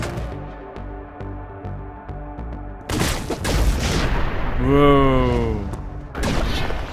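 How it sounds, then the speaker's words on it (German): Loud explosions and gunfire burst out in the action video game Katana Zero, with heavy booms and crackling blasts following a stretch of pulsing game music, while a voice exclaims over the chaos. "Explosion, wir brauchen mehr Explosion."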